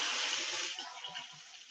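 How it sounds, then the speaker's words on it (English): Tap water runs and splashes as multi-tools are rinsed under a faucet, a steady broadband gush that continues alone without talk for a couple of seconds. "Let me just go rinse my multi-tools real fast."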